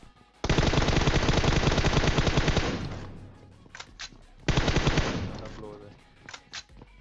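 Sustained automatic gunfire from a PUBG battle in two long bursts, with short gaps and a few scattered shots between them.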